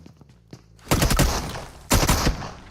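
Gunfire in PUBG Mobile during a PMSL EU Spring League esports match: a few faint taps, then two loud, dense bursts of rapid shots about a second apart, with rattling tails in between.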